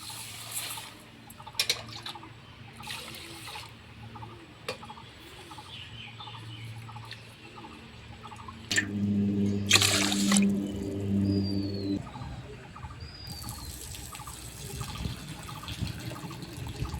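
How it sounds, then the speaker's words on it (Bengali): Lentils being washed in water, the dal rinsed and the water changed several times, giving close splashing, swishing and pouring sounds that swell loudest in the middle and continue without speech. "ডালটাকে আমি 3-4 বার জল পাল্টে পাল্টে ভালোভাবে ধুয়ে নেব।"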